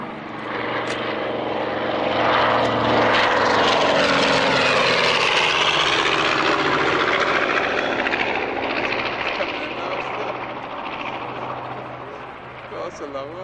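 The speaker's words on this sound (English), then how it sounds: "B-25 Mitchell." A B-25 Mitchell bomber thunders past at an airshow at Duxford, its piston engines swelling to a loud droning roar that slowly fades.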